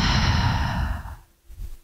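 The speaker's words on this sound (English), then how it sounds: "Take some deep breaths in and out." Someone takes a deep breath during a post-mastectomy mobility exercise routine, a long, loud, close exhale like a sigh trailing off, then a brief softer intake.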